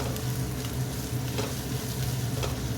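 Cooked peanuts, chana dal and peas being stirred together in a pan for a leafy greens dish, with a steady soft sizzle and scraping spoon movements running throughout, close and moderately loud, no talking.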